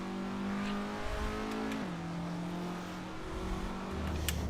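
Race car in the Assetto Corsa sim, its engine tone climbing steadily under power, shifting, then climbing again, with a low rumble joining near the end.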